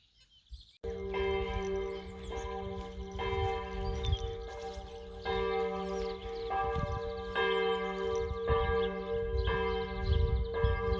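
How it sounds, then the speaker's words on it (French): Church bells peal steadily at midday in a French outdoor setting, a continuous ringing with rich sustained overtones and repeated strikes, fairly loud and close, with faint birdsong around and no talking. "Là, il est midi, les cloches sonnent."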